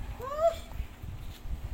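A cat gives a short rising meow partway through, fairly faint over low background rumble and noise in an indoor setting.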